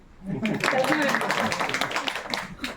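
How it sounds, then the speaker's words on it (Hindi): An audience at a home gathering breaks into a short round of clapping, the quick patter rising after a moment and mixing with a voice speaking over it. "कल्पना मैम के लिए तालियां बजा सकते हैं, बजाइए भैया।"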